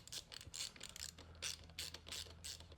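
A hand ratchet clicks in quick repeated bursts while tightening the bolt on an ASV lever fitted to a Ducati Monster 937, close up and fairly quiet, with no talking.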